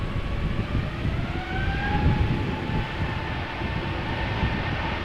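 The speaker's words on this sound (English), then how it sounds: "Delta Airlines Flight 75, Airbus A350-900 going to Atlanta, Georgia." A Delta Airlines Airbus A350-900 taxis toward the runway at Amsterdam Schiphol Airport, its engines a steady distant roar with a faint whining tone, heard alone.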